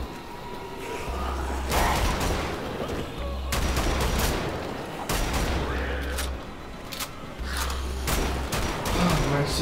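Gunfire in the video game Wolfenstein, set in a church: several bursts of rapid shots, each lasting a second or two, separated by short pauses and loud in the foreground.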